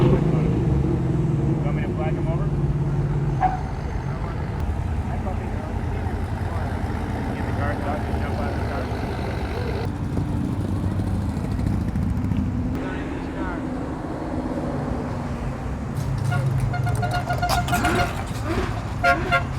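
Cars drive past at the Woodward Avenue Dream Cruise, a steady rumble of traffic with engine noise, wind buffeting and occasional horn toots, while people talk nearby.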